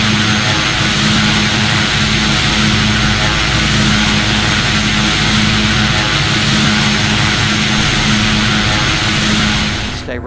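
Pilatus PC-12 turboprop engine in a flight simulator during approach, a loud steady propeller drone with a constant whine that stays even throughout as the landing gear goes down.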